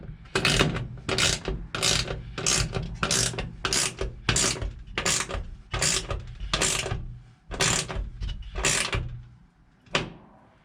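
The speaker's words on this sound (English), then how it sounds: "I'm gonna tighten these 6 bolts." A hand ratchet tightens the six bolts on the rails of a retractable tonneau cover in a pickup bed, clicking in about a dozen steady, loud back-and-forth bursts, close up and with no talking over it.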